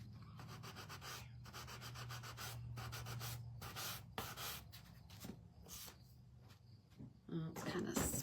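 A small hand sander lightly scuffs a wooden primitive pumpkin frame in quick, rhythmic rubbing strokes, soft and close, with a voice murmuring at times.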